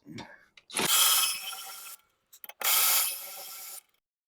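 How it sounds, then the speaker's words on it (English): A ratchet removes 14 mm rear brake caliper bolts on a 2013 Toyota Prius, with two long rapid clicking runs separated by short clanks, close and loud. "So we still got the same 14 millimeter bolts to take out. So let's take those out."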